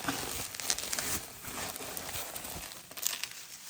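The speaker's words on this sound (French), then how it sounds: "je suis en train de le déballer" Pokémon XY product packaging, around ten years old, being unwrapped up close: continuous crinkling and rustling of plastic and cardboard with a few sharper crackles and tears, no talking.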